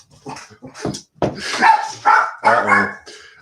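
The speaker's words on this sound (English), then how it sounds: "I'm going to see what Piper's barking at down there" Piper the dog barks close by in a quick string of sharp barks and higher yips, uneven in rhythm and fairly loud, with no other sound.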